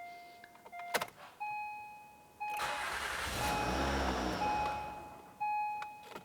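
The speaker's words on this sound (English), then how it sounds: "I'm going to go ahead and start your vehicle and run it until it's out of gas and stumbles to a stop." A 2007-2013 Acura MDX engine cranks and catches, then runs for a few seconds with a steady mid-pitched hum before cutting back; a short burst of hiss and some faint clicks come before and after it.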